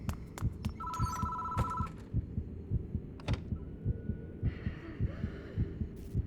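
A telephone bell rings in a short burst over a steady, loud thumping heartbeat-like pulse, with eerie tones drifting in later, in the horror game Spirit Hunter: Death Mark.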